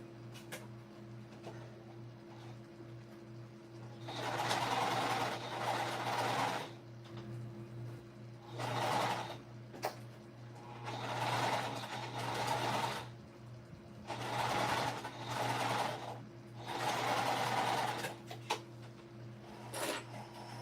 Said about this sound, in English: I'm going to sew my exterior real quick